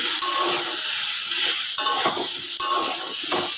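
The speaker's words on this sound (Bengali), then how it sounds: "এখন এঁচড় আর আলুটাকে আমি ভেজে নিচ্ছি" Unripe jackfruit and potato pieces fry in a pan, a continuous close sizzle with a few rhythmic scraping stirs roughly every second.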